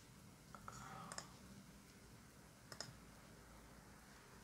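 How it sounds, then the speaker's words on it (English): A computer mouse gives a few faint, sparse clicks in a quiet room. "Click next."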